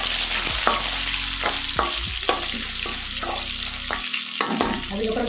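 Urad dal, cumin and green chilies frying in oil, a continuous close sizzle with a low burner hum underneath and a few sharp utensil taps and scrapes scattered through it; nobody speaks.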